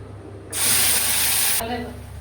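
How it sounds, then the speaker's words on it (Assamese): A paste of ginger, garlic, onion and cashew hits hot oil with a sudden loud hiss that holds for about a second, then drops back to a low sizzle. "এই পেষ্টটো বনাই ল'লোঁ এতিয়া তেলত ভাজি ল'ম"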